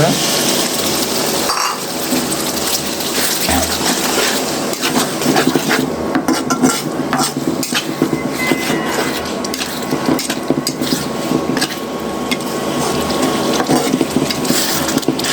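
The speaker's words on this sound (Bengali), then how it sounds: "ভালো করে নাড়িয়ে নিব।" Onion paste being stirred in a cooking pot for a Bangladeshi pangas fish muri ghonto, giving a steady scraping and sizzling texture throughout, with a continuous background hiss and clatter and no clear speech.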